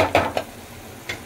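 A spoon stirs masala, turmeric and salt into hot frying oil in a pot, giving a few short scraping, clinking strokes over a faint sizzle, quiet and close.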